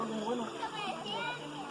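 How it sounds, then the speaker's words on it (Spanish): Children playing and talking together at a river in hot weather, their excited voices overlapping in a lively, continuous chatter at close range, with someone speaking over them. "Miren, los niños felices, divirtiéndose, jugando."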